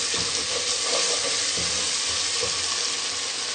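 Masala spices sizzling in a pan while being roasted for turnip sabzi, a dense continuous frying hiss with occasional soft scraping of a spoon, close and steady.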